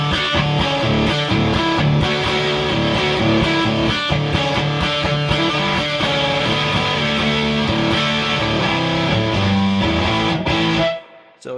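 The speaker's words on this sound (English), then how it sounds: "Or very kind of heavy, fuzzed out distortion textures." Heavy, fuzzed-out guitar distortion from a WMD Arcane Preamp pedal played through single-coil pickups, loud and dense with sustained chords throughout before cutting off abruptly near the end.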